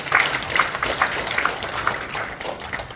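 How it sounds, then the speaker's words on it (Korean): Applause from an audience at an association's year-end general meeting, steady scattered clapping of moderate loudness filling the room for about three seconds, with no one speaking over it. "최성희 우리 부회장 박수 쳐주세요"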